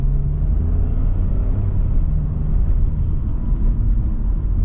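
Steady low engine rumble and road noise from inside a Renault Kardian as it accelerates, a continuous loud drone that holds evenly throughout without talk.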